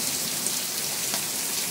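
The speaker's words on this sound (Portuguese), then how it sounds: "essa chuva deliciosa que está caindo para molhar o nosso chão" Steady rain falls in a backyard on a hot day, an even, dense hiss of drops on the ground, constant and close with no voices.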